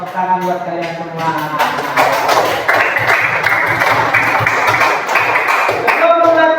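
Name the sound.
applause for the class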